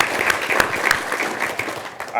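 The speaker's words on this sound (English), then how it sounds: "Please give us applause" An audience breaks into applause at a public talk with the U.S. Surgeon General, producing a short, dense burst of clapping with sharp individual claps standing out near the start.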